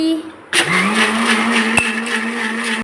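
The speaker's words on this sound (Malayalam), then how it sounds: "അവക്കാടോയിലേക്ക് പാല് പാല് കൊടുക്കാം ജ്യൂസ് അടിച്ചിട്ട് ജ്യൂസ് അടി" A blender switches on abruptly after a brief quiet moment and blends avocado juice with milk. The motor gives a loud, steady whine, with a sharp click partway through.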